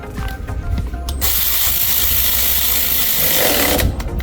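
A ratchet with an 8 mm socket tightens bolts on a 2018 Ford F150, giving a steady, close buzzing ratchet whir of about three seconds after a few faint clicks and handling noises.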